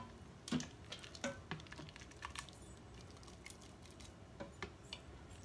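Hard dried beans of mixed kinds rattle and clatter against the inside of an Instant Pot, a quick run of light, sharp ticks and clicks close by, with no talk.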